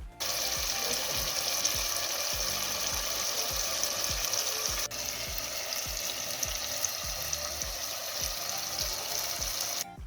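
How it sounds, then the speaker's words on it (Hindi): Chicken fries in a pan over raised heat, with a constant close hiss of sizzling oil and a regular rhythm of stirring strokes repeating throughout. "आंच को हल्का सा तेज़ करना है ताकि चिकन की भुनाई जो है वो बहुत ही ज़बरदस्त तरीके से हो सके।"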